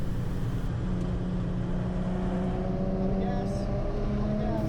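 Steady engine drone from a Nissan 350Z on a race track, rising gradually in pitch as it accelerates, heard from inside the car with constant road and wind roar and a voice talking over it.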